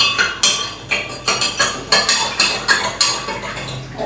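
A spoon clinks rhythmically against a glass while stirring sugar into sherbet, about a dozen sharp, evenly spaced taps, close and clear.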